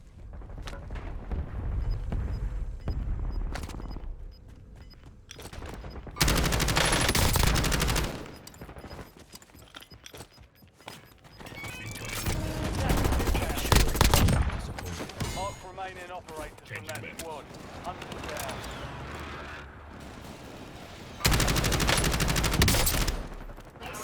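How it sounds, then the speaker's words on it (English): Repeated volleys of automatic gunfire from strafing in the Warzone video game come in loud bursts separated by quieter stretches, with a voice talking over much of the gameplay. "So whenever I jump down here and I'm shooting at him"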